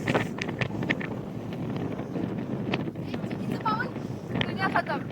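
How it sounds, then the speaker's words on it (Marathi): Steady wind buffeting the microphone throughout, a low rumbling roar with gusty swells, and a few faint chirps and clicks over it, at Tipu Sultan's fort in Bangalore. "खूप जास्त वारा सुटलाय"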